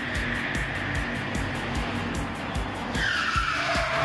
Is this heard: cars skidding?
yes